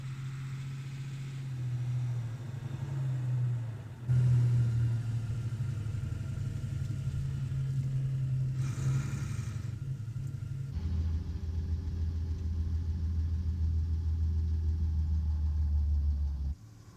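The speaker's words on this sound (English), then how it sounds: "the Vorn Zugmaschinen pulls the V2 up and underneath the newly raised field gantry." A German military Vorn Zugmaschine tractor tows a V2 rocket under a field gantry, its engine giving a steady low rumble. The pitch drops into a deeper idle partway through, and the sound stays close and continuous, with no talk.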